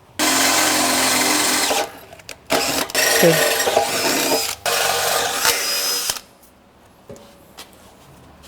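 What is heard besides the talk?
drilling bolt holes in Jeep bumper with drill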